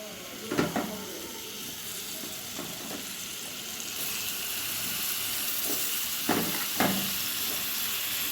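Rui fish frying in hot oil in a wok over a gas flame, giving a steady close sizzle and hiss with a few sharper spatters and crackles, no talking.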